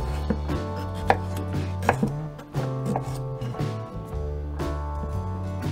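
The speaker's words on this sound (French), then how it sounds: "Coupez un tronçon de la carotte à la même taille que le poireau et coupez le reste en demi-rondelles." A knife chops a carrot on a cutting board into half-rounds, sounding as a steady run of close, crisp knocks with background music running underneath.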